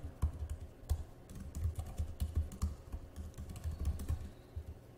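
Someone types code on a computer keyboard, giving quiet, close, irregular clusters of key clicks with brief pauses between bursts and no voices.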